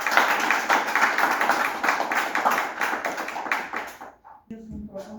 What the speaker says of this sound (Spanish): nuevamente las palmas para ellos